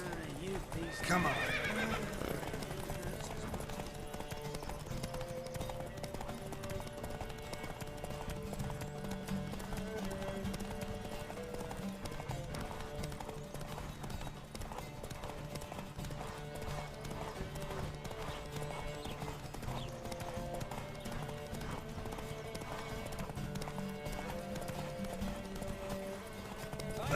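Horses in a video game race gallop with hooves clattering in a steady, rapid rhythm with occasional whinnies, set against music and voices calling out throughout.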